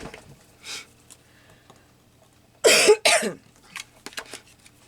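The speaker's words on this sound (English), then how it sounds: "I've caught a cold and not feeling the best, and so I've got this little cough" Two close, loud coughs from a person with a cold break a mostly quiet stretch, followed by a few softer throat sounds and small clicks nearby.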